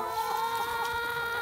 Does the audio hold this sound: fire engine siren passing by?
no